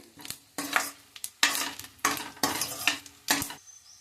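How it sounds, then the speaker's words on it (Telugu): Cashew pieces, chopped onions and green chillies fry in a pan for coconut rice. Loud bursts of sizzling and scraping come in an uneven rhythm with short pauses, close by, with no voices. "జీడిపప్పు పలుకులండి ఇవి కొంచెం ఫ్రై అవనిచ్చి ఉల్లిపాయ ముక్కలు పచ్చిమిరపకాయ ముక్కలు వేసుకోవాలి"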